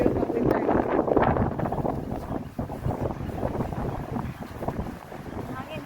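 Strong wind buffets the microphone in loud, continuous gusts, with a voice talking through it.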